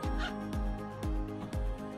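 A full-zipper genuine leather wallet gets zipped back and forth, four quick rasping pulls in a fairly even rhythm, close and clear with no talking.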